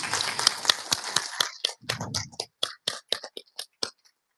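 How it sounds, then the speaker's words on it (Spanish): Applause at a virtual graduation ceremony thins out into a dwindling patter of separate claps, a few scattered hands slowing to single claps before silence. "Un aplauso para todos ustedes."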